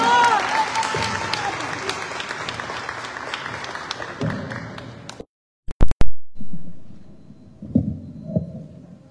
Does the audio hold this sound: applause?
yes